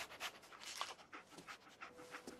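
A dog companion in the video game Fallout 4 pants quietly in a steady rhythm of soft, breathy puffs, alone with no talking.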